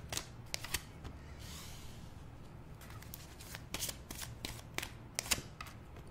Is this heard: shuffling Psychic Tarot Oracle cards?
yes